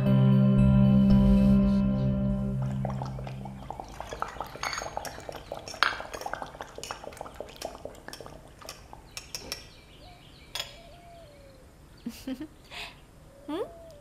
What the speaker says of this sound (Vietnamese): Nè, em đang luộc bầu.